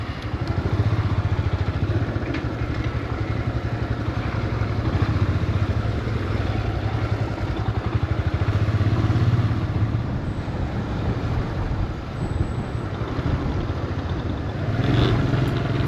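A motorcycle engine rumbles steadily and close by as the rider turns around on a city street in Ouarzazate, Morocco, with a constant low drone and faint clatter throughout.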